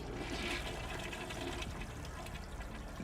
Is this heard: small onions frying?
no